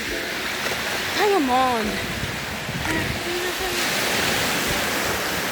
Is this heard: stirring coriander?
no